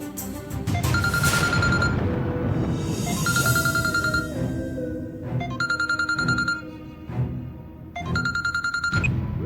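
A phone ringtone plays a bright repeating melody in loud bursts over a busy background, ringing several times in a row.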